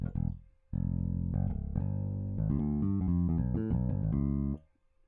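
Simple bouncing bass line from a synth bass, a string of rounded low notes stepping up and down in a loose groove, full and close, played alone before fading out.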